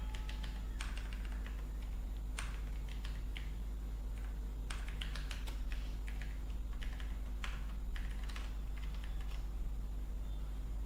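Typing on a computer keyboard: scattered bursts of light key taps against a steady low hum, with no voices heard.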